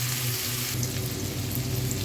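Chopped onion sizzles in hot oil in a pan while cooking vegetable khichuri, a steady, hissing frying noise with no break, under a low background hum.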